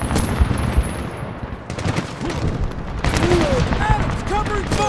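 Sustained machine gun covering fire in the Medal of Honor video game, rapid bursts of shots with booming impacts and someone shouting over the battle noise.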